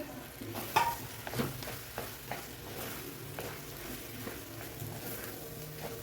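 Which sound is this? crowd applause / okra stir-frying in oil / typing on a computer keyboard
okra stir-frying in oil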